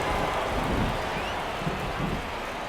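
Steady rain falls during a baseball game, a dense, even hiss of drops with a low rumble underneath, moderately loud and continuous throughout.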